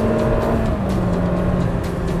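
A Peugeot 106 Rallye 1.3 with 100 hp and 800 kg revs hard at full throttle toward 7000 rpm, a loud, buzzing, close-up engine note that climbs steadily from inside the car.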